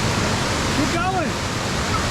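A waterfall on a hiking trail gives a constant broadband rush of falling water, loud and close. A brief voice-like sound rises and falls over it.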